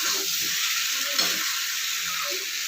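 Pumpkin curry simmering in a pan under a steady bright hiss, with soft, muffled stirring strokes underneath and no voices.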